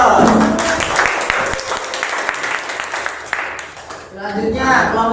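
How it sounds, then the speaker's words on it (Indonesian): Classroom audience applauding after an Indonesian teaching performance, a dense, loud burst of clapping that carries on steadily and then thins out as a voice speaks over the tail. "beri aplaus"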